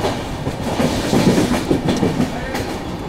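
Humsafar Express train rolling on the line toward Kalyan Junction, a loud, continuous rumble with rhythmic clickety-clack of wheels over rail joints, heard from on board.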